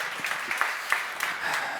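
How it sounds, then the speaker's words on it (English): A conference crowd applauds panelists after a session on building onshore wind farms in the Baltics, a brief steady wash of clapping from a full room. "Round of applause to them"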